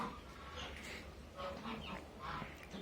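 Faint clucking and chattering from poultry in a coop, a rooster among hens and ducks, short irregular calls over a low background hum.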